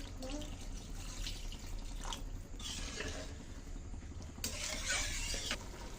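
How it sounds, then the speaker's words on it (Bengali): Water is poured into a cooking pot of spiced oil while making Kashmiri dhokar dalna, giving a few bursts of splashing and sizzling over steady kitchen background noise. "এখন আমি দিয়ে দেবো জল আর একটু জল দিচ্ছি"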